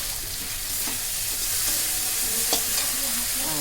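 Potatoes dropping into a hot pan of oil while cooking a fish curry, a steady loud sizzle and frying hiss with light stirring scrapes, no voices over it.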